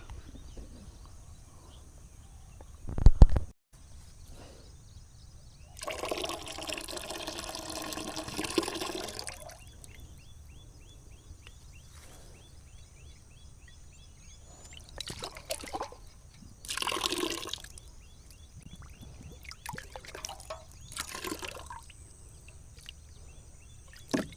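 Plant medicine stirred into water for spraying flowering plants against disease and insects: intermittent sloshing and trickling bursts, moderately close, separated by quiet stretches with a single sharp knock early on.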